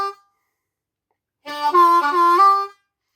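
A harmonica plays a short blues riff with a bent draw note, a single clean phrase of about a second after a brief opening tone and a pause of silence.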